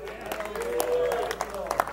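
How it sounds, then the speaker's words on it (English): A church congregation applauding with hand claps, a brief patter of clapping rising and fading under a preacher's sustained voice. "We'll give the Lord a hand clap."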